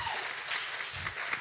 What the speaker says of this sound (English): if we could do a round of applause